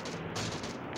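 A weapon fires in the mobile battle royale game PUBG Mobile. The shot lands as a dense, loud burst that fills the full second, with a second crack close behind the first.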